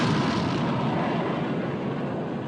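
Heavy naval gunfire from a battleship in a sea battle, a loud low rumbling boom that fades over a couple of seconds with no voices over it.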